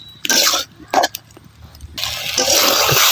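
Water is poured into potato curry cooking in a kadai, giving bursts of splashing and sizzling followed by a longer rushing pour, close and fairly loud.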